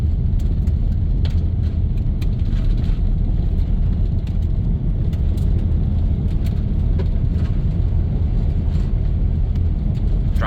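A 1997 Dodge Grand Caravan SE, left abandoned on a farm for over four years, pulls in third gear with a loud, steady low engine rumble and road noise throughout, with occasional faint clicks and no talking.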